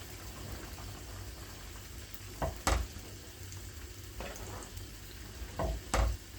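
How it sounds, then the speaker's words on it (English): Oxtail being stirred in a cooking pot, a steady sizzle and bubbling with a few distinct scraping and clunking knocks of the spoon against the pot, close and alone. "Give it a little stir around."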